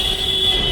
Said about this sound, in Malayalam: ഇതാണ് വാരണാസി റെയിൽവേ സ്റ്റേഷൻ.